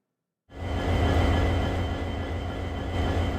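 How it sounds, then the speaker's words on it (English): A goods train on the Hazaribagh-Barkakana railway line in Jharkhand rumbles in abruptly and grinds along the track, a loud, sustained roar of heavy wagons and wheels with a faint steady squeal, no voices heard. "A goods train came to a screeching halt on the Hazaribagh-Barkakana railway line"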